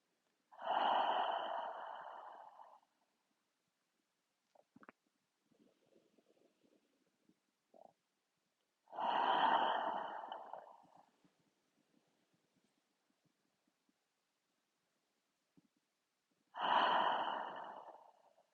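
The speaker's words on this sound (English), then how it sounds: "And breathing in and out through the nose." Slow nasal breathing during a restorative yoga session, three long airy inhales and exhales spaced several seconds apart, close and quiet with soft pauses between, no talking.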